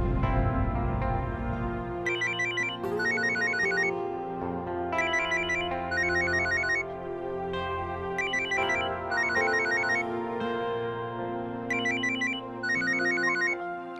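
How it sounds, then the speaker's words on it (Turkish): A phone ringtone plays a repeating electronic melody in regular bursts over a sustained musical background, moderately loud and steady throughout. "Telefonun çalıyor."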